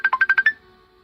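A phone ringtone chirps during a church meeting, six quick bright electronic pulses in a rapid burst, fairly loud and close, then stops abruptly into quiet room tone.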